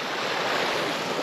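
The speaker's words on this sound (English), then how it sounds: "the creek is flowing heavier than it has been and it's still iced up" A partly iced-over creek, running heavier after snowmelt, rushes in a steady, loud, broadband wash with no pauses.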